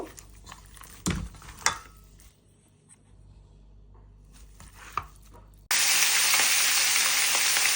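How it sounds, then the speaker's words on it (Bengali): Kitchen clatter and chopping-like knocks, then a sudden loud, steady hiss of fish rubbed with turmeric and salt frying in hot oil that continues to the end. "মাছে হলুদ আর লবণ মেখে নিতেছি এখন ভেজে নিব"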